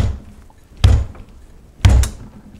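A KRG X-Ray rifle chassis is rapped down on a table twice, two sharp, heavy thunks about a second apart, close and loud against a quiet background.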